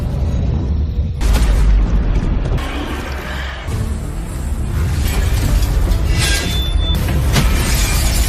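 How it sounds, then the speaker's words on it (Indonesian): An animated explosion in a sci-fi cartoon series booms with deep low rumbling, a bright crackling burst and shattering debris over several seconds, followed by more bursts and whooshes. "membuat si Fanci selamat dari ledakan tersebut."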